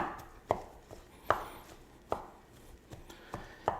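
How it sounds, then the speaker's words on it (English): A knife chops smoked brisket with burnt ends on a cutting board, about six sharp, fairly quiet thuds spaced roughly evenly apart, close up. "chop away just like this. Doesn't take any effort whatsoever."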